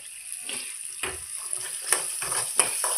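Egg fry sizzles in a pan on a gas stove while a spatula stirs it, a hissing fry broken by a few scraping, clattering strokes, close and moderately loud.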